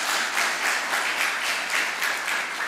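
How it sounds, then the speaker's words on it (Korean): A church congregation at a Korean Sunday worship service claps together in sustained, even applause that fills the room, dense and steady with no single voice standing out. "우리 박수로 하나님 앞에 영광을 올려드립시다."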